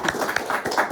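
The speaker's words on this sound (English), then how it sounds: "round of applause" An audience gives a brief round of applause, a quick burst of overlapping hand claps at moderate loudness in a room.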